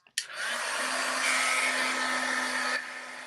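An embossing heat tool switches on with a click and blows hot air in a loud, steady whooshing hum, close by, then eases slightly near the end.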